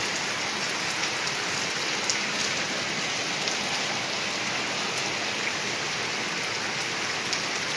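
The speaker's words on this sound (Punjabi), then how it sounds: "ਹੁਣ ਮੀਂਹ ਲੈ ਕੇ ਕਾਫੀ ਪਹਿਲਾਂ ਥੋੜਾ ਥੋੜਾ ਸ਼ੁਰੂ ਹੋਇਆ" First monsoon rain falls on a Malwa village, a dense, even hiss of drops striking surfaces that holds steady and loud for the whole stretch with no voices.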